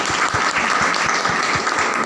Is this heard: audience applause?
yes